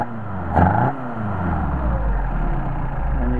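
A Mercedes 190SL engine on Solex carburetors blips sharply once, then settles back into a steady, loud idle heard up close.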